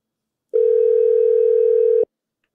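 A steady telephone dial tone during a phone call to a radio show, one continuous loud tone lasting about a second and a half, starting and stopping abruptly with no talk.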